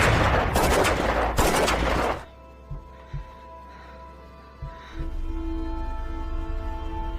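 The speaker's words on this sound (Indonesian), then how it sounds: "dengan mudah Max menembak Ellen dari dekat" Gunfire in a film scene, a close-range shooting: a loud burst of rapid shots at the start, then a few faint single pops over a low hum.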